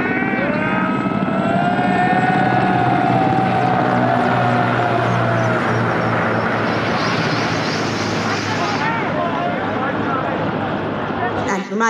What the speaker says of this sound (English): Formation comprising one Chinook and four Mi-17-1B helicopters.